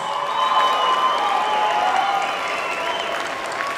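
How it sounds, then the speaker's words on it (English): A crowd applauds the two boxers at the end of an eight-round professional bout, a steady dense wash of clapping that holds loud and even throughout. "can we please have a round of applause for these two fighters?"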